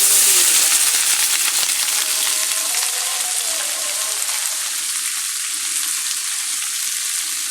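Cubed potatoes tumbling into hot oil already browning panch phoron and bay leaf, for a Bengali aloo barbati fry, give a loud, steady close sizzle with bright crackle that eases slightly after a few seconds.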